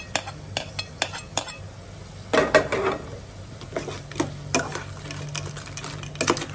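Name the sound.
adding ginger garlic paste to crab curry in pan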